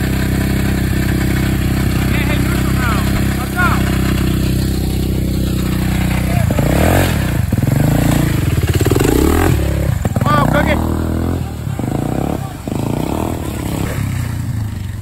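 Polaris off-road vehicle bogged in mud, its engine droning loudly and close with clattering and popping from a worn rear end, while people talk over it.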